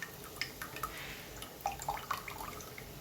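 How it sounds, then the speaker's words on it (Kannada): Water added to smashed tamarind in a home kitchen, heard as soft, sparse drips and small splashes at close range, quiet and without talk. "ಹುಣಸೆ ಹಣ್ಣನ್ನು ಸ್ಮ್ಯಾಶ್ ಮಾಡ್ಕೊಂಡು ನೀರಷ್ಟು ಹಾಕ್ಬೇಕು"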